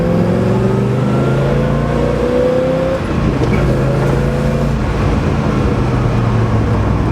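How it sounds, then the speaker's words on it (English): Engine of a 1970 Chevelle SS 396 with a 4-speed, roaring loud and close as the car drives under a bridge. A steady, heavy rumble holds throughout, with shifting pitch as it revs, and there is no talking. "I want to see how this sounds. We're going to go under a bridge here."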